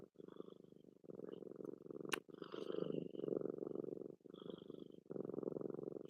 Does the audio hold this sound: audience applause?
no